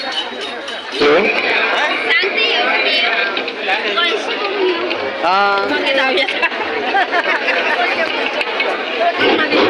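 Dense crowd chatter fills a busy courtyard at the annual Shri Devi Bhagwati temple fair in Munage, Devgad, Sindhudurg, with many overlapping voices, occasional clinks and a closer voice rising briefly above the steady babble.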